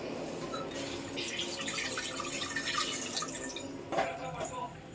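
Water poured into a pressure cooker in a home kitchen for spinach and dal sambar, a steady splashing pour running through the clip with a brief stronger gush near the end.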